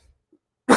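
A single short, sharp cough from someone speaking about soccer betting, close and fairly loud after near silence.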